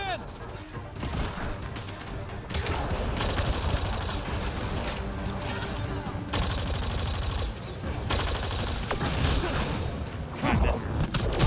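In Mass Effect Andromeda, a grenade explosion and sustained gunfire crack through a sci-fi firefight: rapid bursts of shots chatter continuously with heavy booms, loud and close, while voices call out over the combat.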